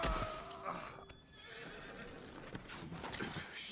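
Horse in Red Dead Redemption 2 whinnies loudly up close at the start, then hooves clip-clop at a steady walk for several seconds, with no voices.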